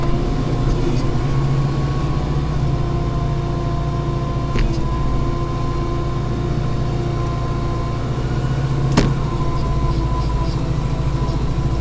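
A snowblower runs as a steady, loud, droning engine hum with a constant tone, close by and unbroken, with a couple of faint clicks.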